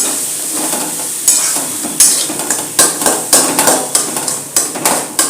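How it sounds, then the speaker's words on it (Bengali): Egg and cabbage with Kashmiri chilli frying in a pan, stirred with repeated scraping strokes of a spatula over a steady loud sizzle, the clanks coming in a quick irregular rhythm. "আমার এটাকে আমরা নাড়াবো ভালোভাবে মিক্স করবো সবটা"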